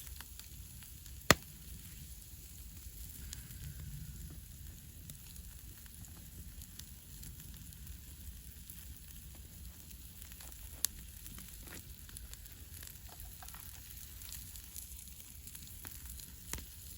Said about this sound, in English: Just grilling that up a little bit on the fire now, guys.